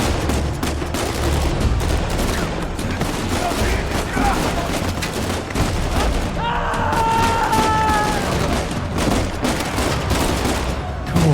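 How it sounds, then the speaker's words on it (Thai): Uncharted 4 gameplay, set in a prison: repeated bursts of machine-gun fire and rattling gunshots, with booming impacts throughout and voices calling out between the bursts. "มีปืนกลซะเปล่า แม่งยิงไม่โดนกันเลย"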